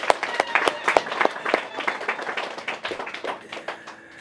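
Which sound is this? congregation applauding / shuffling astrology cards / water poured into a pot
congregation applauding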